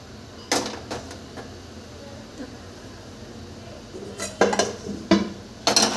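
An iron kadhai is set down on a home kitchen stove with a sharp metallic clank, then more pots clatter in a quick cluster of knocks near the end over a low room hum.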